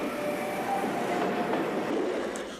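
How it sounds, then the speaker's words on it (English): Train unit setting off from the isolated Funchera junction station in Portugal, a steady close rumble of rolling wheels with faint squeals and tonal whine, no talk. "this unit is setting off on the lengthy journey northeast to Beja and Evora"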